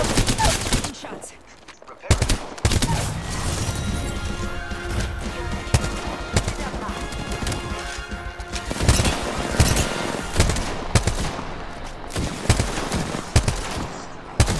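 Rapid automatic gunfire from the Apex Legends video game, sustained bursts and fusillades with loud cracks and impacts over a dense game soundtrack, with voices talking underneath.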